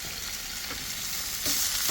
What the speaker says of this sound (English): all I can hear is the thing just sizzling away